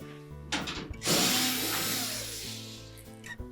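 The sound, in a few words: power screwdriver removing a screw from a washer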